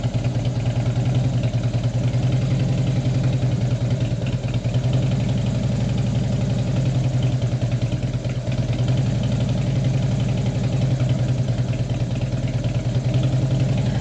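A Flathead 45 motorcycle engine idles steadily in the cold, a loud, close, continuous mid-pitched rumble with a constant lumpy beat and nothing else over it.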